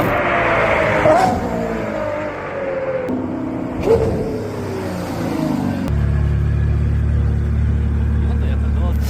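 A seventh-generation Ford Mustang coupe with a 5.0 V8 roars through its exhaust in repeated rising revs between shifts, then settles into a deep, steady rumble, with a person talking over parts of it.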